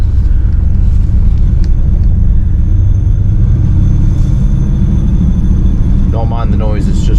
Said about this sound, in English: Don't mind the noise, it's just the straps.